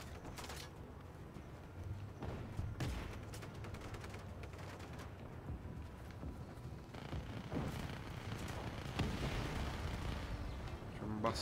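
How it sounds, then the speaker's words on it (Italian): Continuous rumbling explosions and bursts of gunfire from Just Cause 3, a dense, busy battle din with booms scattered throughout. "Guardate le esplosioni, ragazzi. Cioè, spettacolo."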